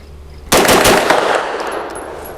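A Grand Power Stribog SP9A3G carbine fed from Glock magazines fires a rapid string of loud shots that ring out and decay into a fading echo.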